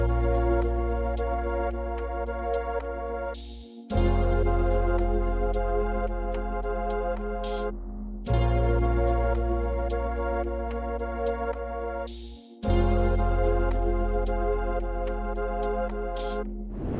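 A dark FL Studio sample plays its B part: sustained guitar, bass and pad layers under a time-stretched percussion loop from a one-shot kit, with two long phrases that drop out briefly between them, loud and with no voices.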